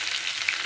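Cumin seeds crackle in hot oil beside fried pointed gourd in a pan, a short, even hiss of frying, close and moderately loud with no voices.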